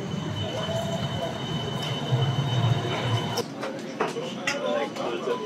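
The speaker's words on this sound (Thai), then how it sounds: "อยู่บนรถ GVB แล้วนะฮะ" Rolling rumble of a GVB tram moving through Amsterdam, with steady wheel and track noise, a softer stretch midway and faint scattered clicks, heard from inside the car.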